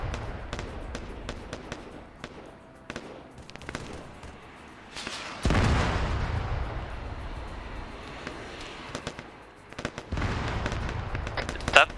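A delayed explosion goes off in a Halo match, a sudden loud burst followed by a long rumbling roar amid scattered gunfire cracks and pops, with players talking over the action.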